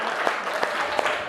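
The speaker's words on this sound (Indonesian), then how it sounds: "berikan tepuk tangan untuk kelompok 1 ya" A classroom of students claps for a presenting student group, a brief burst of dense clapping with a few sharper individual claps standing out, fairly close and loud.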